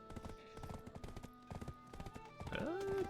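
Horse hooves clip-clop in a steady rhythm in the online game Black Desert Online, moderately near, with a short whinny-like cry near the end and light game sounds underneath.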